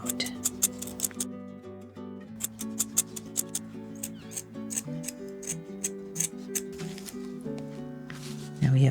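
Scissors snip through cardboard for a springtime peep wreath, a close series of crisp, regular cutting clicks and crunches with short pauses between strokes.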